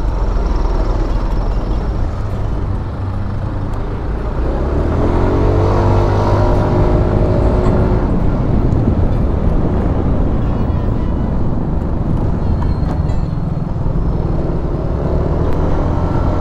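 Road traffic heard from a Yamaha Aerox 155 scooter on a solo ride toward San Francisco, loud close engine rumble and wind roar with vehicles revving and passing nearby throughout.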